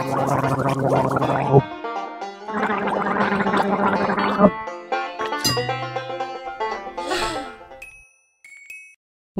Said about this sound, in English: When you gargle, you rinse your mouth and throat and then spit.